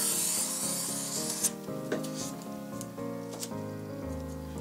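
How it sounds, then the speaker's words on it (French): A utility knife drawn along a ruler to cut material for a 3D craft piece, giving a rasping, rubbing scrape under steady background music, with a few brief sharper clicks and no talking. "Je place ensuite ma règle et je découpe simplement avec mon cutter couteau."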